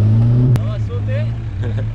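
A Suzuki Vitara 4x4 accelerates off-road just before a jump, its engine a loud, steady low drone with a sharp knock partway through, while voices exclaim over the motor.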